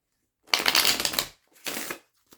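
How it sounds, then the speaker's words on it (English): Two bursts of a tarot deck being riffled, a long crisp flutter followed by a shorter one, close and fairly loud with a brief pause between. "Let's give it one more shuffle."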